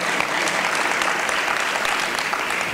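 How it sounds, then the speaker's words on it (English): Dense, steady applause from a crowd at a City Hall press conference, continuous clapping at even strength throughout. "let's give all of them a round of applause"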